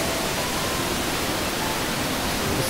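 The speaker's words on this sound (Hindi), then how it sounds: "वो ऊपर से झरना गिर रही है" Waterfall pouring down beside the double-decker living root bridge near Cherrapunji, a loud, constant broadband roar of rushing water filling the whole clip without any voices.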